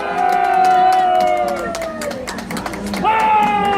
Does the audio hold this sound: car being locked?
no